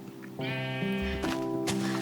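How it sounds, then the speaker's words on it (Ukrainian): A single sheep in Minecraft gives one clear, wavering bleat, loud and close, lasting about a second. "у нас більше овечок появилось плюс дві овечки"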